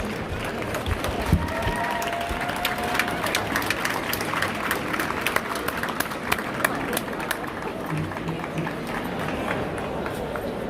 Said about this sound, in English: Another real big round of applause, please.